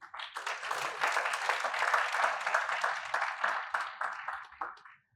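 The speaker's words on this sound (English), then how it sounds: "I would love us to give a round of applause again to the children" An audience at a UNICEF event on Nigerian children claps in a sustained round of applause that swells quickly, holds steady, then tapers off at the end.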